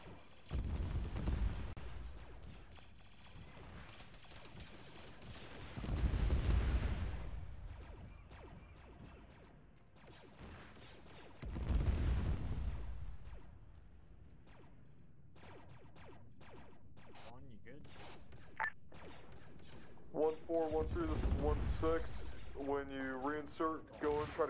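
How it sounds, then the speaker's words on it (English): In the Arma 3 Star Wars clone battle game, an artillery barrage lands as a series of deep, heavy booms spaced several seconds apart, with radio-style voices talking between and over the blasts. "I need you to call a Charlie fire mission right on top of Overwatch Sundance."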